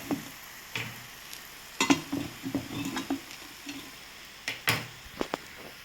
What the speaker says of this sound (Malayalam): നല്ലപോലെ ഒന്ന് വഴറ്റി കൊടുക്കട്ടെ കേട്ടോ